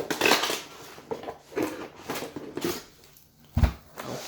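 Cardboard packaging of a Blackweb mechanical gaming keyboard being opened, with scattered crinkling, scraping and flap rustles building to a sharp thump near the end, close and fairly quiet.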